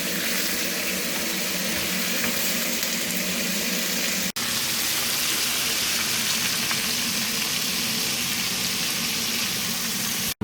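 Shrimp and golden-brown zucchini sizzle loudly in a hot pan, a dense, continuous crackling hiss with a brief break partway through and no voices.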